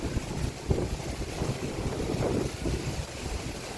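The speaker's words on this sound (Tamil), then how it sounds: "எங்கங்க சுயல் காற்று சுற்றுது பாருங்கள்" A whirlwind of swirling wind blows across a flower-strewn road in steady, rough gusts that fill the space, with no voices.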